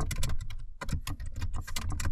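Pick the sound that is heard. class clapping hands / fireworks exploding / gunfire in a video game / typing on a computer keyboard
typing on a computer keyboard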